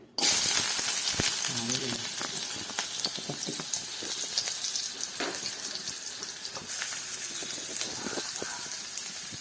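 Loud, steady sizzling of onions frying in a pan, starting abruptly, with scattered crackles and pops throughout.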